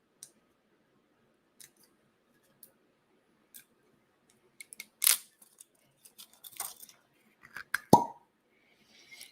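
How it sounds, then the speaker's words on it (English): A cork pops out of a whiskey bottle with a sharp, close pop, surrounded by small clicks and handling noises from the bottle, then a squeaky rub of the stopper near the end. "nice little cork pop on that."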